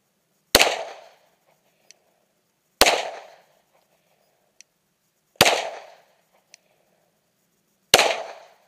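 Four sharp gunshots fired outdoors at a taped target, each a loud isolated crack with a short decaying tail, spaced roughly two and a half seconds apart with faint clicks between.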